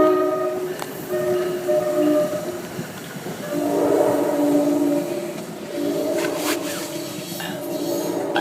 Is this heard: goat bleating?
no